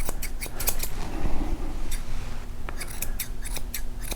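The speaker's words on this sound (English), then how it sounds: "just kind of go over that again with the scissors" Curved scissors snip wispy ear hair on a Cavalier King Charles Spaniel, a series of quick, crisp metallic cuts close up, coming in short bursts against a quiet background.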